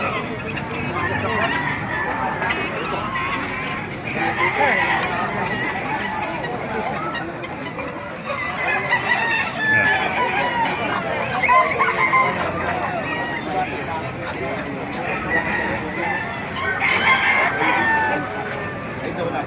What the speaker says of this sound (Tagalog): Ang dami pang manok mga kamasa dito sa Baliwag